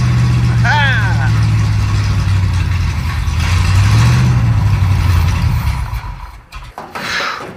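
A Pontiac T-37 engine runs in a junkyard with only about 10 degrees of timing: a steady, low, rough idle that swells briefly and then stumbles and cuts out near the end, with voices around it.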